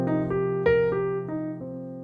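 A jazz arpeggio rises and falls in eighth notes, about eight clean pitched notes in an even rhythm, close and moderately loud, played alone.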